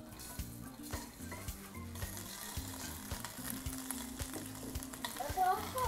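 Slices of pork frying in a hot pot on a home stove, a steady close sizzle with occasional stirring and pan clatter throughout.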